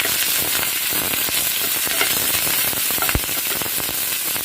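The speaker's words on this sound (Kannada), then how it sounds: "ಇದಕ್ಕೆ ನಾನು ಹಸಿ ಕರಿಬೇವು ಹಾಕ್ತಾ ಇದ್ದೀನಿ" Raw curry leaves dropped into hot oil that already holds fried green chilies, giving a loud, steady sizzle and crackle with one sharper pop near the end.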